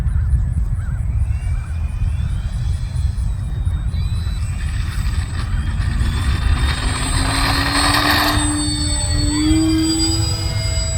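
An FMS Ranger V2 1220mm RC airplane takes off outdoors, its motor rising steadily in pitch as it spools up and climbs. Heavy wind rumble runs underneath the whole time.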